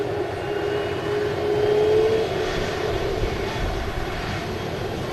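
A Jet2 Airbus A330 airliner at Manchester Airport gives off a steady, fairly loud engine roar with a broad, even rumble that swells slightly around the middle and holds, with no voices over it.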